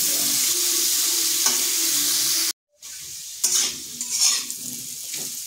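Potato and papaya pieces frying in oil over medium-low heat, being stirred; a close, steady sizzle with scraping stirs, a brief cut to silence midway, then sizzling and clattering resume.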